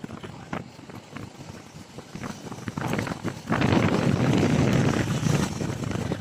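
Strong gusting wind buffets a phone microphone outdoors, a steady rumbling roar that swells louder in the second half, with faint speech-like sounds underneath.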